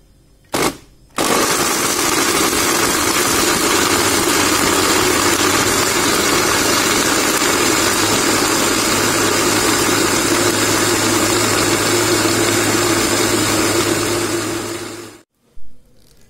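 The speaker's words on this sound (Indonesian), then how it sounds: "saya akan blender terlebih dahulu" A blender grinds peanuts and spices with a little water into gado gado sauce, a loud steady whir running about fourteen seconds after a brief start-stop pulse, then cutting off.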